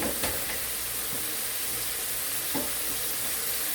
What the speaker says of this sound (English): So while they're getting fried up, we're going to make the sauce for the pepper steak